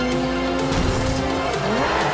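Nissan GT-R tyres squeal loudly and close in Forza Horizon 2, a brief skidding whine over a roaring engine, with no talk.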